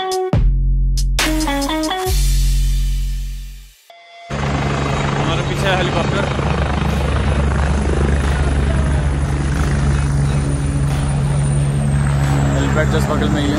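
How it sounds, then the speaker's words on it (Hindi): A helicopter flies near Kedarnath in the Himalayas, its steady rotor and engine roar loud and continuous after a brief opening of other sounds, holding through most of the clip. "हेलीकॉप्टर"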